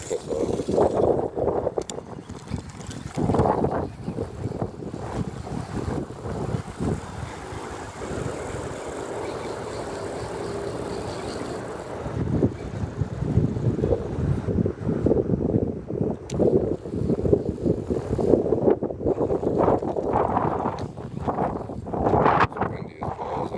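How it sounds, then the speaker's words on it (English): Strong wind buffets the microphone outdoors on the Merrimack River while fishing, a steady rumbling gust that rises and falls, with a voice talking at times over it. "windy as balls out right now"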